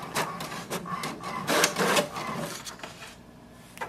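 An HP DeskJet 2755e inkjet printer runs off a status report, its print head and paper feed giving a close, fairly quiet run of rhythmic mechanical whirs and clicks that fade out near the end, with no talking.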